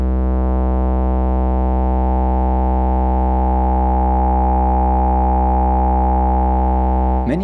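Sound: Marienberg Multimode VCF analog filter in self-oscillation

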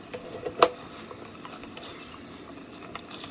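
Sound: stirring chicken curry with added tomato

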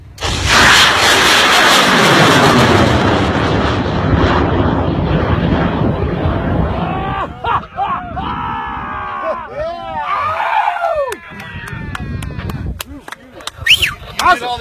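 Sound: high-power model rocket launching with beer keg payload

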